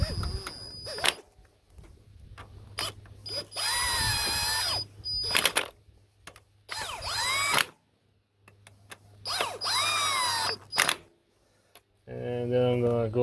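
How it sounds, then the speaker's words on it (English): An impact wrench snugs engine mount bolts on a Nissan Versa, firing in several loud rattling bursts separated by quiet gaps. "I'm gonna snug them down with the impact."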